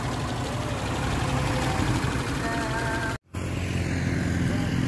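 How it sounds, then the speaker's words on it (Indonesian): A 1994 Suzuki Katana 4x4 engine idles smoothly and steadily with a constant rumble close to the microphone, and there is a brief dropout near the end. "Mesinnya halus banget, enak banget pemirsa."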